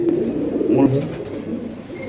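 Silver pigeons coo inside a loft, a low, soft warble close by with voices talking over it.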